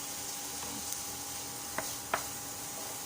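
Onions stir-frying in melting margarine in a pan, for a BBQ sauce: a faint, steady sizzling hiss with a couple of light spatula scrapes.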